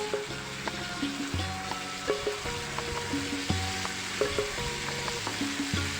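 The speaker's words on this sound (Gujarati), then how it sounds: "આદુ લસણ સતળાઈ જાય" Ginger and garlic paste sautéing in hot oil for a Manchurian dish, a soft continuous sizzle broken by irregular pops and crackles, close and alone without voices.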